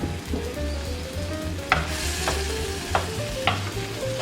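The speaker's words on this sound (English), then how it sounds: "saute again the tentacles" Squid tentacles sauté in a pan for paella negra, a close steady sizzle with repeated stirring and a few sharp utensil taps against the pan.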